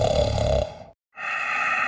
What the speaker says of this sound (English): The ground shook with every snore.